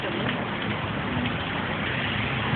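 Steady rain falling outdoors, a continuous soft hiss of drops with no breaks, moderately loud and close, with no voices.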